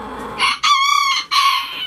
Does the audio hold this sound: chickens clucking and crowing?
yes